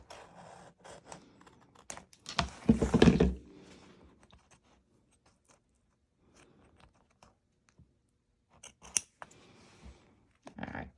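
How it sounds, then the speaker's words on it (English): Scissors snip and crunch through stiff embroidery stabilizer in short bursts, with a louder cutting stretch early on and scattered quieter snips after long pauses. "Make sure that you are only cutting the stabilizer."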